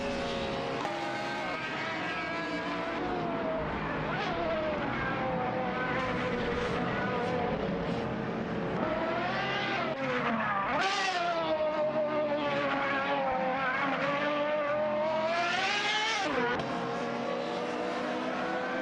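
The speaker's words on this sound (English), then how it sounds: "Let's enjoy some epic race car action together." Engines of race cars rise and fall in pitch as the cars speed around a track in a video game race, loud and continuous with layered revving throughout.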